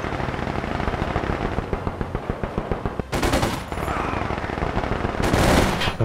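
Rapid machine gun bursts ring out in the World War II strategy game Company of Heroes 2 over a dense, rumbling battle bed, with two sharp, loud bursts standing out clearly.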